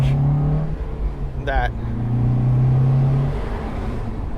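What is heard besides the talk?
Fiat 124 engine revving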